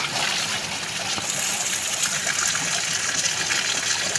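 Water gushes and splashes over Brown, a pet dog, during an outdoor bath, a steady close rush with no speech.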